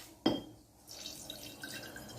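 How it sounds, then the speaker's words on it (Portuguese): Water poured into a glass container during a children's science-fair demonstration: a sharp splash at the start, then a soft, steady trickle, close and quiet. "Primeiro nós colocamos a água."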